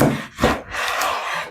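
A knife slicing through the head of a mackerel on a board, giving a close, short rasping cut with a brief pause and then a steady scraping drag, with no talk.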